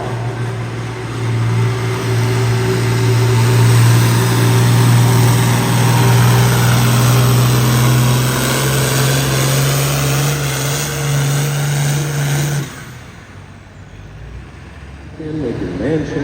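An International Harvester 1066 tractor roars loudly under heavy strain during a tractor pull, a steady droning engine note that holds for about twelve seconds before cutting off abruptly, leaving crowd noise and a public-address voice in the background.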